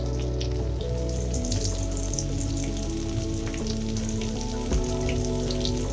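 Grated coconut and about three cashews sautéing together in a pan for a roadside-style empty salna paste, a steady dense sizzle and crackle that is close and loud throughout, with no voices.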